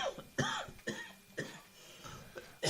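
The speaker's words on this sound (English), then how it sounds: "You're having a coughing fit there." A man's coughing fit during a podcast recording, several harsh, close coughs in irregular succession, loud and alone without talk.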